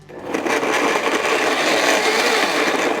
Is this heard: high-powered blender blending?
yes